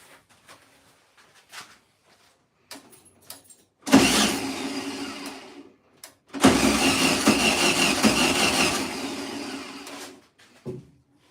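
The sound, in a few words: 1972 Volkswagen Beetle engine starting after two years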